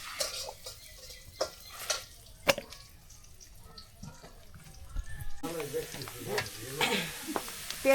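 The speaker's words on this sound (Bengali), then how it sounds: "পেঁয়াজ ভাজা হয়ে গেছে না" Onions frying in a pan give a crackling sizzle broken by sharp utensil clicks and scrapes, growing denser and louder in the second half.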